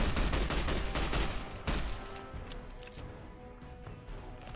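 Securitron missile fire in a Fallout New Vegas battle: a rapid run of sharp bangs and blasts, dense at first and then thinning into scattered distant pops under a steady rumble, with no talking.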